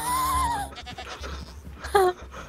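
A goat bleats in the Minecraft video game, giving two nasal, wavering calls: a longer bleat first and a shorter one about two seconds later, with quiet game sounds in between.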